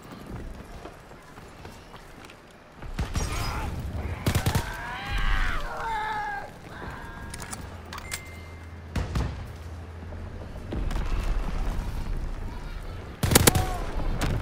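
Gunfire rings out in the video game Call of Duty: WWII, with sharp shots and rapid bursts spread over a busy battle scene, mixed with other game effects and voices talking.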